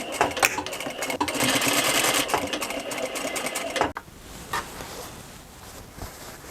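A sewing machine stitches corset bra cups, running fast and steady at close range for about four seconds, then stopping and leaving quiet room noise with a few faint handling sounds.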